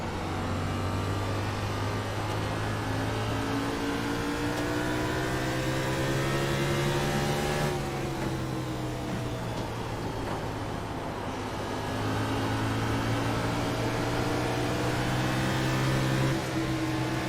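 Race car engines in iRacing at Richmond, a loud continuous multi-car roar with engine notes rising and falling as cars accelerate and lift around the short oval.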